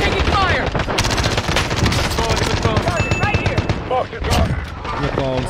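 Gunfire in a Call of Duty: Warzone match, dense rapid automatic bursts and scattered shots going on continuously, with voices talking over the fighting.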